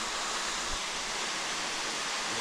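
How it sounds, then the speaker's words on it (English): Silver Falls waterfall at Silver Falls State Park in Oregon, heard from right underneath it: a dense, steady roar of rushing water, loud and unbroken, with no voices. "we're right underneath the waterfall right now."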